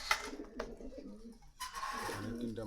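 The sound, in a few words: pigeons cooing at a market stall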